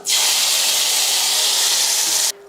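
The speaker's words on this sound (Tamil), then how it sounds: "எண்ணெய் காஞ்சதுமே கொஞ்சமாக வெந்தயம் கொஞ்சம் கருவேப்பிலை இப்போ குழம்புல ஊற்றிடலாம்" Hot oil tempering with fenugreek seeds and curry leaves poured into a Tamil kara kuzhambu of onion and brinjal, giving a loud, steady hiss and sizzle for about two seconds before it cuts off abruptly.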